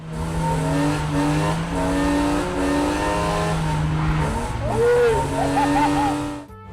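A car drifting on a track, its engine holding high revs with shifting pitch while the tyres squeal and skid continuously, loud and close.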